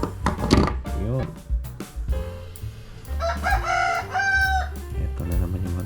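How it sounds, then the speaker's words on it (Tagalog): A nearby rooster crows repeatedly in a Filipino workshop during battery balancer work, its long rising calls overlapping with someone talking and low background hum. "Ito na naman yung manok."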